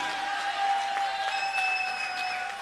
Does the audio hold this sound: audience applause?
yes